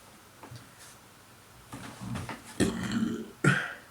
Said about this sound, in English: very memeable burp